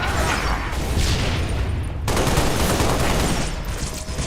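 Rapid bursts of automatic gunfire in the video game Halo Reach, dense and loud with a brief pause midway before the shooting resumes.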